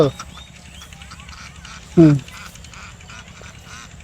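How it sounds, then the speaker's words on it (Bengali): Domestic ducks give one loud, close quack partway through, over faint background noise and a soft murmur. "হাঁস চলে যেতেছে হাঁস"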